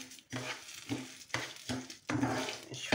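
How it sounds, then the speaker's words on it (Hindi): Sugar being stirred into hot oil in a pan, a rhythmic scraping and sizzling in repeated strokes about every half second, close and fairly soft, with no voices. "और अब हम इसमें शुगर डालेंगे"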